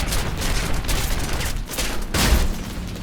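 Anti-aircraft fire in War Thunder video game: a dense, continuous rattle of rapid bursts with a deep rumble beneath, swelling into a louder boom near the end.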